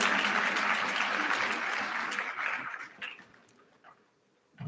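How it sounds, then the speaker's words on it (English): At an international conference on artificial intelligence, during a plant sapling presentation, the audience gives loud applause that tapers off over a few seconds into near quiet, with a brief sound returning at the very end. "a warm round of applause"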